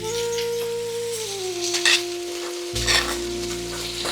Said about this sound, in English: we're going to saute all of this off until they're slightly tender